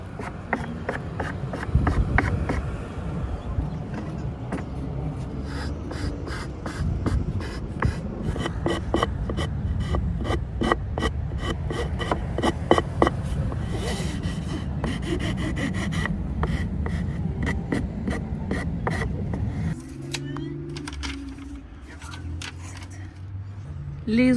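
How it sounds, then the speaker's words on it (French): Hand sanding on an American motorhome being refurbished: a steady, continuous rasping scrape with rhythmic back-and-forth strokes running for about twenty seconds, fairly close, before it stops and a quieter stretch follows. "Tu retrouves les joies du ponçage?"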